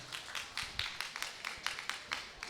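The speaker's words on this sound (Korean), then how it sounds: "준비가 되신 분들은 박수 한번 크게 좀 부탁드리겠습니다." Scattered, fairly faint hand claps from an audience at a launch ceremony for a children's stem cell bank, individual claps audible as separate sharp taps rather than a full roar.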